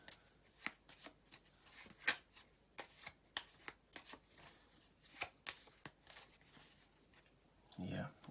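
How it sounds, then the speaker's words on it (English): Game cards being shuffled for a tabletop combat round, a run of quick, crisp riffles and slaps at an irregular rhythm, close but faint, with a brief low rumble at the end. "So I'll shuffle these cards."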